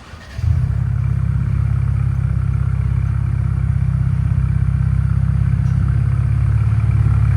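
A 2025 Ford Bronco 2.3L turbo with an aftermarket muffler idles steadily after starting up, a deep, even, throaty rumble that holds without revving.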